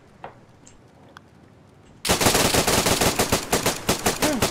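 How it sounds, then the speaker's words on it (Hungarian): Rapid automatic gunfire erupts in DayZ during a PvP server event, loud and close, starting abruptly after a quiet stretch and continuing in a dense burst of repeated shots. "Lövések."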